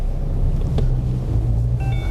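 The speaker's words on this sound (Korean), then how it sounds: "디젤 엔진이라서 뭐 조금 시끄럽긴 하지만" Diesel engine of a mid-size SUV on a test drive, a low steady rumble heard from inside the cabin with faint road and wind noise and a brief tone near the end.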